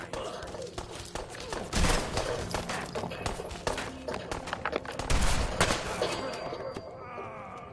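Gunshots ring out as Paul shoots a man, several loud cracks scattered over a noisy backdrop of footsteps, hooves and game sounds, with voices talking in between.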